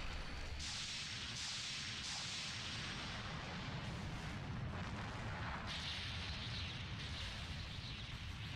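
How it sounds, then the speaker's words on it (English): A cannon explosion in The Legend of Dragoon gives a continuous, roaring blast that surges in repeated waves, dense and steady throughout. "Oh, it's the cannon. Maybe it'll be a different explosion."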